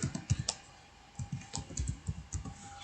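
Quick, close clicking of keys on a computer keyboard while entering a formula in an Excel spreadsheet, short irregular bursts of taps with brief gaps, no voices.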